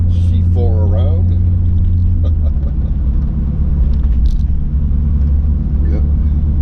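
A 1994 Corvette C4 rumbles steadily while driving, its deep low engine drone continuous and close, with people talking over it throughout.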